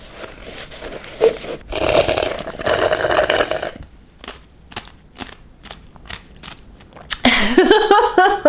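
Ice being bitten and crunched close to the mic in ASMR style, a series of crisp cracks and chewing crunches, sometimes in bursts and sometimes in separate bites, with no talk.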